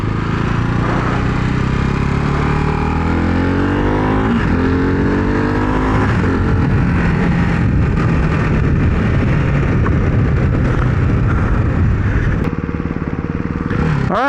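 Single-cylinder engine of a 2024 Ducati Hypermotard 698 Mono motorcycle, ridden in sport mode, revs hard and climbs through rising pitch sweeps across gear changes, loud and close with constant wind rush.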